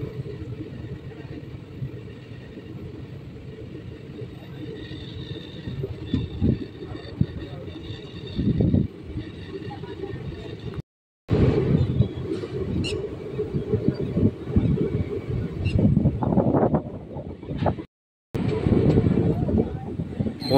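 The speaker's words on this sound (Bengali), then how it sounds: "ট্রেন এখন পাচন্দি স্টেশন ছেড়ে বেরিয়ে যাচ্ছে" A Katwa–Ahmadpur passenger train pulls out of Pachandi station with a steady, loud low rumble and mechanical clatter that runs throughout, broken by two brief cuts to silence.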